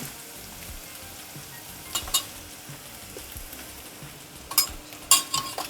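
Turmeric and chili powder stirred into cauliflower kheema in a pan over a low background sizzle, with a few sharp clinks and scrapes of a spoon against the pan toward the end.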